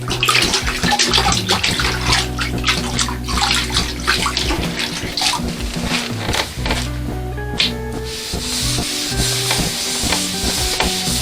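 Rag sloshed and wrung in a bucket of lukewarm water for stripping a table, with continuous close splashing, dripping and rubbing that varies in intensity and has no talk.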